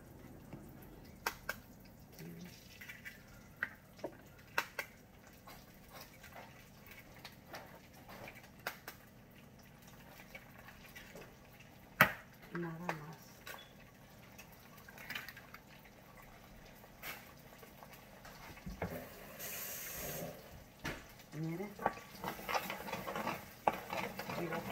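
Eggs being scrambled in a pan for homemade Chinese-style fried rice make soft, intermittent scraping and tapping sounds with light sizzling, close and quiet, with a louder burst of sizzle toward the end.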